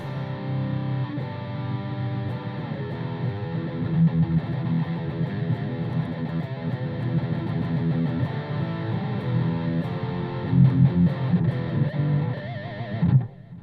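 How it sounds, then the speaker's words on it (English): An electric guitar played through a Line 6 Spider V practice amp at low volume with heavy high-gain distortion, a continuous saturated riff of chords and notes running about thirteen seconds before stopping. "you get all this saturation, you get tons of distortion, and you don't have to crank the amp up"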